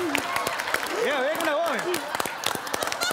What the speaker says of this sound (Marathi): टाळ्या थांबू आधी